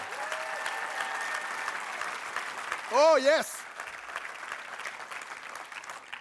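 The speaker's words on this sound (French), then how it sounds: "Est-ce qu'on peut donner une vraie main d'acclamation?" A church congregation breaks into loud, sustained applause that fills the room, with a brief shout of voices rising over the clapping midway through.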